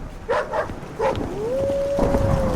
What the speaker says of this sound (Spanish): Los perros aullaban, soplaba la ventisca.